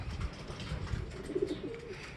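Racing pigeons coo softly in a loft during a derby race, a low, rolling burble rising briefly in the middle, close and fairly quiet, with no talking.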